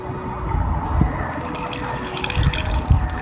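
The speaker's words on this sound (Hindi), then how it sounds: "अब हम इसमें पानी शामिल करेंगे।" About a glass of water is poured into falsa sharbat, giving a close, gurgling splash with a few heavier sloshes and bumps, heard alone without talk.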